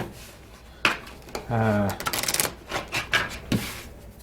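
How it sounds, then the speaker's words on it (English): Crisp riffling and snapping of playing cards being shuffled, a few short bursts with a brief hum and soft voices around them. "we got to shuffle now."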